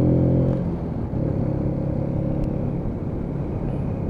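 A Keeway K-Lite 125cc motorcycle engine drones close and loud while being ridden through corners, a steady low rumble with slight shifts in pitch as the throttle changes, partly masked by wind.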